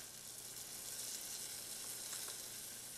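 Onion and flour roux for a Creole béchamel sauce sizzles steadily in a pan while being stirred, a continuous close frying hiss with faint scraping.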